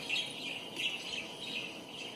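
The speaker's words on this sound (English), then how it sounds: "the bird noises are for the cats" Continuous high-pitched recorded bird chirps and tweets, played for cats, repeat through the whole stretch at a steady level, with a faint background hiss and no voices.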